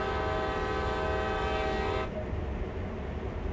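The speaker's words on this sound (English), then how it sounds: "sound the horn twice" A diesel train's horn on the Northeast Corridor in New York, in Train Sim World, blares one sustained, loud blast for about two seconds, then cuts off, leaving the low rumble of the locomotive underneath.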